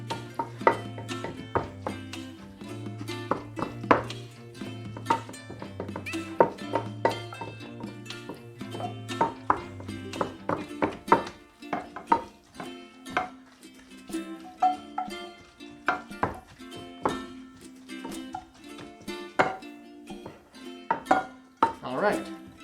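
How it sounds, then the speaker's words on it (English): A slotted spoon clinks and scrapes against a pan as mushrooms and onions are lifted out of their liquid, with frequent sharp metallic taps in an irregular rhythm over a continuous tonal background. "So we're going to use the slotted spoon and just get all the mushrooms and onions."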